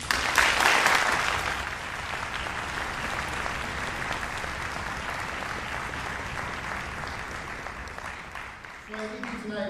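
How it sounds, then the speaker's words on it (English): An audience at a school district music festival applauds student performers, a burst of loud clapping that settles into a long, even ovation, with a few voices faintly heard near the end. "So make sure to applaud just a little extra tonight."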